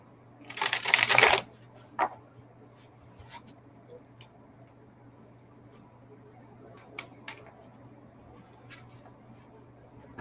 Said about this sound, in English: They're a little difficult to shuffle.